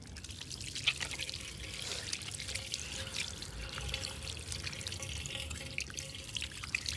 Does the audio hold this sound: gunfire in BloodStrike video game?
no